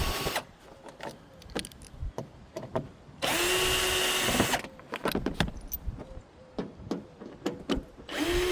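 A power drill backs screws out of an RV rooftop air conditioner in one sustained whir lasting over a second, then a brief spin-up at the end, with clicks and small metallic clatters of screws and parts in between.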